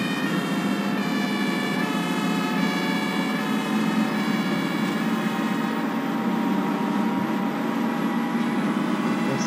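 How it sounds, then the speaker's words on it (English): An ambulance siren in the bus-driving game OMSI 2 wails loud and continuous, its rising and falling tone running throughout over a low vehicle rumble, with no voices. "am I going faster than the ambulance?"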